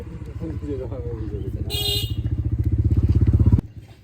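A motorcycle ridden on a winter morning in Kushtia, its engine chugging in a steady pulsing rhythm that grows louder and faster before cutting off abruptly, with a person talking over the first part.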